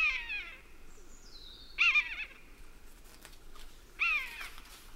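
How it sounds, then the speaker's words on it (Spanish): Drawn-out, descending mewing calls from a common buzzard, three cries spaced apart against a quiet outdoor background. "Maullan los ratoneros."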